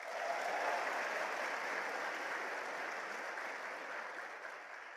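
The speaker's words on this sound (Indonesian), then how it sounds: "Anda perlu memberikan satu aplaus pada diri Anda" Sustained applause from a seminar audience, a dense even wash of clapping that holds steady and fades slightly toward the end, no voices over it.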